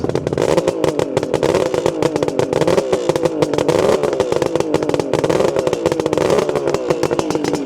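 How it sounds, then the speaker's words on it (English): A Suzuki GT380 two-stroke triple motorcycle engine runs at a steady idle close by, with a rapid, rattly putter and raspy exhaust, no talking. "Engine sounds nice and smooth, and it sounds great with those exhausts."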